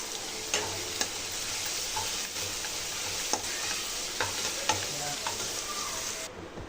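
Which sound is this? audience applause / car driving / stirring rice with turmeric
stirring rice with turmeric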